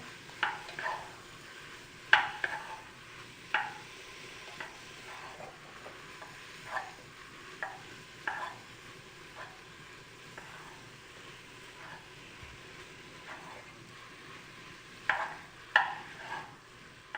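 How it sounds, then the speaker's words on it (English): Ground beef browns in a hot pan with a steady quiet sizzle, punctuated every second or two by the scrape and clack of a utensil stirring against the pan, no voices. "The meat is browning"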